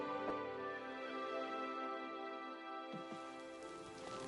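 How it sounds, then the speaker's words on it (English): Steady rain hiss in Oblivion Remaster, a broad continuous wash of falling drops that holds throughout, with game ambience and faint tonal layers beneath and no speech. "It's raining."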